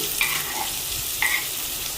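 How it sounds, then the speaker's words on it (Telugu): Tempering spices, then onions and green chillies, frying in hot oil for a okra curry, giving a steady close sizzle with a couple of brief scraping stirs and no talk. "పోపు వేగాక ఆనియన్స్ పచ్చిమిర్చి వేసి వేపుకోవాలండి"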